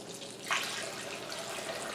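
Water poured from half-gallon jars into a turkey roaster, a faint, steady trickle and splash with a brief louder gush near the start, quiet and without talk.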